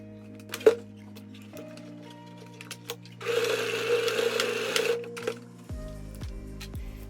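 A sewing machine stitches dress fabric with a steady, rapid mechanical whir for a couple of seconds, close and moderately loud, bracketed by quieter clicks and fabric handling.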